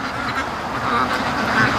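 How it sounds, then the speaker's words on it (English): A flock of free-range backyard ducks quacks in a dense, overlapping chorus of calls, fairly close and steady, swelling slightly louder toward the end, with no talking. "The ducks are driving me nuts here with false alarms."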